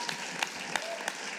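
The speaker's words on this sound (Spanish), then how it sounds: "Le das aplauso." A church congregation giving applause during a Sunday service, with a soft bed of scattered claps under sharper, evenly spaced beats about three per second.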